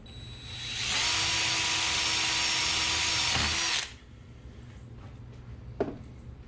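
A power drill whines loudly and steadily for about three seconds drilling holes during trolling motor prep on a boat, then stops, followed by a few faint knocks and clicks nearby.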